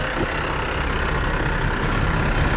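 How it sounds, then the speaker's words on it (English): A 2021 Kenworth T880 dump truck engine runs steadily at close range, a loud continuous diesel rumble with no pauses. "It's a little loud with the engine running."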